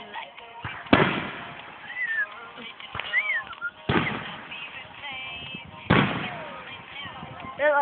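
Carnival fireworks over a park, heard from a distance, go off in three big booms with crackling and whistling rockets between them, while people nearby chatter and exclaim.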